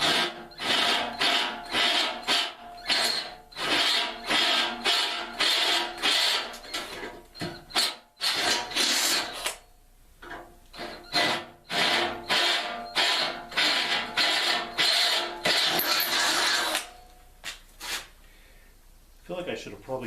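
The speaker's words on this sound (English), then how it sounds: "how many things can you drill with a 7/16 bit?" A drill with a 7/16 bit working in a shop with a Yanmar SA424 tractor: rapid bursts of harsh, grinding mechanical noise, loud and close, stopping and restarting in uneven pulses.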